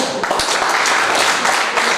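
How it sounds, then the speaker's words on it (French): Audience at a thesis defense ceremony applauding a young graduate, a dense steady wash of clapping that fills the whole stretch at close, even loudness. "Je nous prie d'applaudir un jeune."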